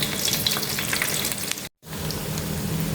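Battered vegetables deep-frying in hot oil in a Thai home kitchen, a steady close sizzle and crackle that cuts out briefly near the middle and then resumes at the same level, with no voices.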